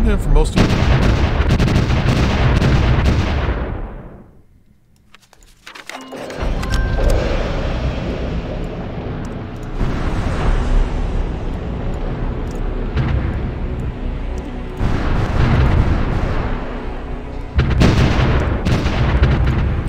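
Artillery fire in the strategy video game Supreme Ruler Ultimate, a dense, loud barrage of booming blasts that drops away briefly into near quiet, then resumes as sustained rumbling fire with repeated heavy surges.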